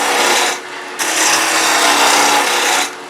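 Wood spins on a lathe while a carbide turning tool shaves it round, giving a steady, loud, close scraping hiss that dips briefly near the start and the end.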